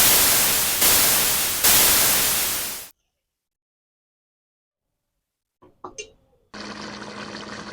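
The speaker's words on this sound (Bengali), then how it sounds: "জল দিয়ে দিচ্ছি" Water pours steadily and loudly into a pan of spiced boal fish curry for a few seconds, then stops; after a long silence, faint clinks and a low steady hiss follow.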